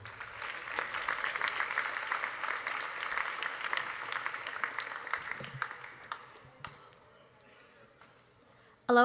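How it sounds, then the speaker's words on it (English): Audience applause for a student speaker at a high school class night ceremony, a steady crowd of clapping that holds for several seconds and then thins out, with a few scattered claps at the end. "Round of applause, everyone, for Anna Wu."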